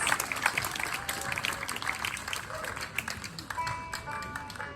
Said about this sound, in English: Round of applause for Tristan Scroggins